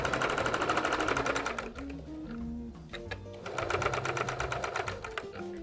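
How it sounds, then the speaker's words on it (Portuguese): A domestic sewing machine runs in quick, even bursts as it stitches bias binding onto patchwork fabric, whirring steadily, stopping briefly with a few clicks of handling, then resuming at a similar pace close by. "vamos a costurar até esse ponto"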